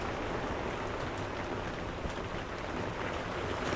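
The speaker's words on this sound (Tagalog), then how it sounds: "Kape muna tayo habang umuulan" Steady rain pours down outdoors in a rural planting area, a dense continuous hiss of drops with no talk and no break across the whole stretch.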